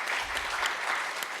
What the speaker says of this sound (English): So everyone give a round of applause to Jeffrey.